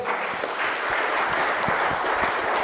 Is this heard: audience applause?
yes